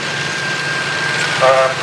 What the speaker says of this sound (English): OT810, which unfortunately is just leaving the arena now.